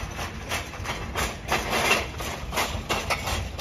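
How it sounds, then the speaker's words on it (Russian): A hammer drives metal wedges into a stone block, giving a series of evenly spaced, moderately loud metallic strikes about every half second over steady background noise. "металлические распорки пробиваются по всей поверхности"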